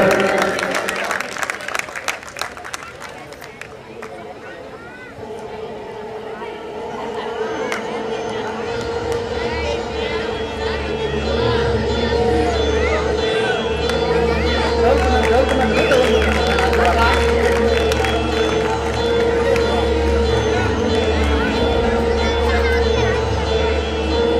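Audience applause and crowd noise at a Ramlila awards ceremony in Azad Pur, starting ragged and building into a sustained, loud wash of clapping with cheering and babble mixed in, over a steady low hum.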